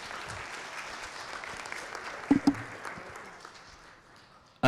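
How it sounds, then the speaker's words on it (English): An audience at a university startup competition applauds after a presentation with a dense, moderately loud round of clapping that gradually fades. A couple of sharper knocks come midway, and a brief loud burst cuts in at the very end. "can we have another round of applause for Andreas for an excellent presentation"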